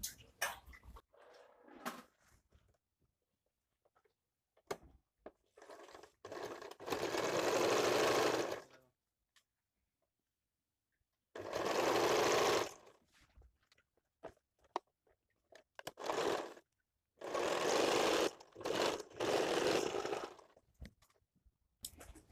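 Sewing machine running a straight seam joining the front and back pieces of a designer blouse: several loud, close bursts of steady stitching a second or two long, separated by pauses with small handling clicks.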